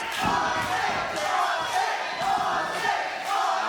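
A live wrestling crowd jeers Saucy Josh Morris, its noise rising and falling in rhythmic, chant-like swells of shouting voices that fill the arena.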